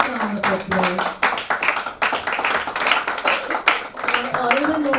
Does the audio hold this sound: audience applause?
yes